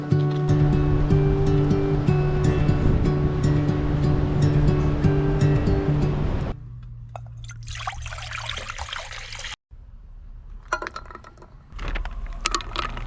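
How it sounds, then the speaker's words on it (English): Ocean waves on a beach at dinnertime, a continuous rushing surf wash that drops abruptly midway, followed by softer splashing and trickling water with bursts of hiss. "Some waves before the dinner."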